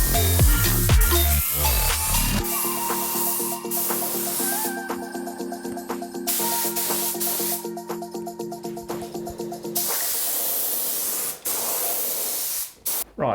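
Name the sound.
spray painting a car body panel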